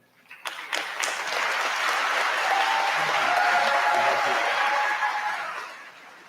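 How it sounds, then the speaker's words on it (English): An audience at a high school graduation ceremony breaks into applause that swells into steady, full clapping and holds for several seconds before tapering off. "when you give Mr. Stansberry a round of applause as he makes his way to the stage"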